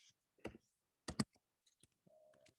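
Typing on a computer keyboard, a few sparse, close clusters of clicks and key taps with gaps between them, followed by a brief tonal beep.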